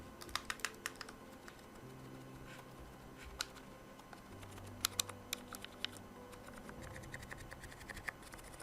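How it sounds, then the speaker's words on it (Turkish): Soft, muted key presses on a quiet Philips SPK8294 gaming keyboard in quiet, uneven bursts, each click faint and dull with a few slightly sharper taps. "Siz de duydunuz gerçekten çok inanılmaz sessiz bir klavye"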